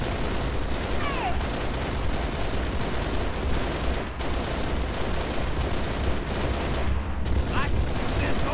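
Loud, sustained gunfire in a video game, dense rapid bursts like machine guns and a heavy fusillade running without a break across the whole clip, with faint game voices mixed in.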